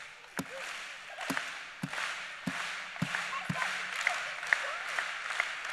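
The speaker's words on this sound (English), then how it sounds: "Ready here, just clap, ready?" At an FFA convention keynote, an audience claps along in a steady beat, sharp distinct claps spaced roughly half a second apart over a soft crowd murmur, with faint voices calling out.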